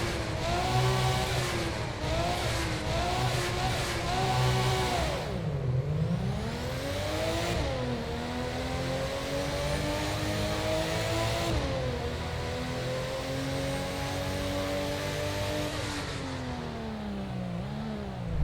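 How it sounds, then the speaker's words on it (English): Car engines in a Roblox driving game rev and shift through gears, the pitch climbing steadily and then dropping at each change, a loud continuous synthetic engine drone with no talking. "Now for the engine sounds."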